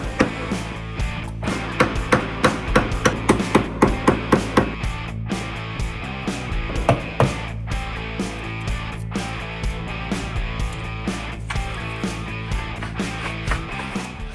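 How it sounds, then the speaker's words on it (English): Sharp chisel cutting into wood, a run of crisp knocking strikes close by, rapid at first and then sparser over a steady low background hum. "it goes pretty quick with a sharp chisel"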